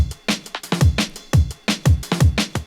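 A dry drum and bass drum group with no effects, playing a fast breakbeat of punchy kicks, sharp snares and ticking hats, loud and alone.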